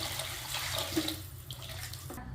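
Water pouring steadily into a pot for drumstick-leaf, carrot and rice kozhukattai, a continuous close splashing stream that runs for a couple of seconds before cutting off.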